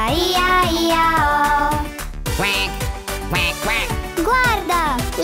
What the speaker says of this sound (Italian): Guarda, le papere stanno chiacchierando tra loro.